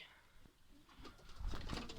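Pigeons in a loft, soft low coos repeating over two seconds, faint and close, with light rustling and no talk.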